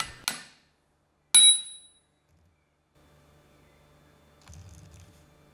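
Two sharp metallic hammer strikes on the hardened steel jaws of a large rusty vise, the second ringing briefly, followed by quiet room tone.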